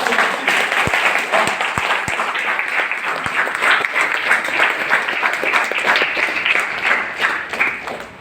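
A loud, sustained burst of applause from an audience at a mega training program, dense clapping filling the whole stretch with a few sharper individual claps near the start.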